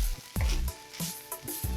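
Close-up sizzling and crackling in a pan with bursts of scraping as day-old rice is tossed and stir-fried for shrimp fried rice, uneven rhythm, fairly loud.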